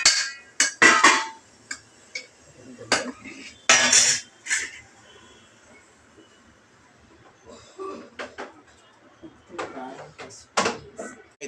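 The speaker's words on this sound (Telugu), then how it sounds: "ఉర్లగడ్డలు, వంకాయలు అయితే ఇందులోకి అయితే వేసుకోవాలి" Potatoes and eggplant tumble into a cooking pan as a string of sharp clatters and metallic clanks, loud and uneven bursts separated by brief pauses, with a voice speaking between them.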